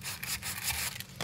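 A new Warn winch drum is sanded smooth by hand, giving a faint, continuous rasping scrape with short rhythmic strokes, close by and heard alone.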